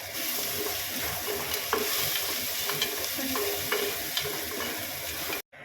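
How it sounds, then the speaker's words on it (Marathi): Curry leaves, asafoetida and ground masala sautéing in a pan over cumin and mustard seeds for stuffed brinjal: a continuous close sizzle with repeated scraping stirs, cutting off abruptly near the end, no talking. "कढीपत्ता, हिंग आणि वाटलेलं वाटण याला चांगलं परतून घ्यायचं आहे"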